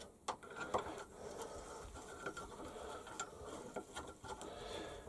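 A bolt threads by hand into a freshly tapped hole on a quill-plate clamp, giving faint, quiet ratcheting clicks and metallic ticks spread through a few seconds with no talk.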